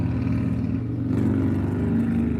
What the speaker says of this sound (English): Brian is working on his race car.